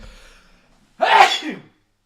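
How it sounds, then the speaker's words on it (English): A single loud, sharp sneeze bursts out close up after a moment of near silence. "I'm gonna sneeze."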